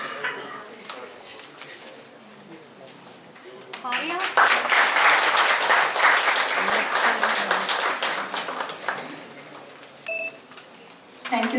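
A ceremony audience at an inaugural event bursts into applause, steady crowd clapping that swells for several seconds and then fades, with a few electronic beeps and a voice heard around it.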